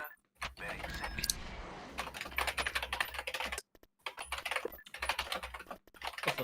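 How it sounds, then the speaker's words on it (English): Rapid computer keyboard typing clatters close by in bursts, quick irregular keystrokes with a few short pauses, loud and dry over a quiet background. "I hope my typing is not coming to the stream."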